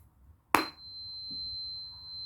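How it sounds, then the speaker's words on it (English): A sharp strike followed by a pure, high, steady 4096 Hz ringing tone that sustains evenly, like a tuning fork, alone and fairly faint. "This is known as the angel frequency, 4096. It's the frequency of quartz."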